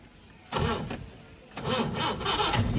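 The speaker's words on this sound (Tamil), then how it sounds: "வண்டி இப்போ ஆஃப் பண்ணிட்டு ஆன் பண்ணுறேன் பாரு" The engine of a 1950s Italian Fiat 1100 car cranks in a short loud burst, pauses, then starts again and keeps running, heard close up.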